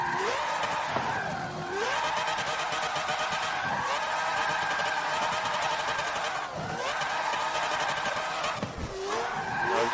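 A car drifts sideways in Forza Motorsport 7, the engine droning steadily with rising and falling revs and tire squeal through the slides.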